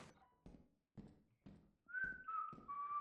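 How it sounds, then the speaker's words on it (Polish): A person whistles a short tune while scrap metal is being collected, a few sustained notes following a series of dull thumps, faint and fairly distant. "Przestań gwizdać!"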